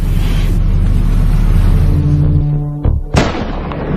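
Sniper rifles firing together at pirates during a naval hostage rescue, two sharp cracks close together near the end, following a loud low engine-like drone that fades.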